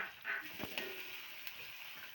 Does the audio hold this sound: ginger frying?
yes